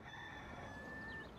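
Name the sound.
rooster crowing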